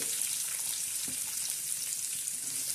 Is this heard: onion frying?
yes